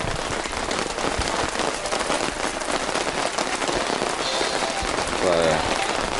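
Steady rain patters on surfaces around a campsite in the high country, a dense, even hiss filling the whole stretch with no talk.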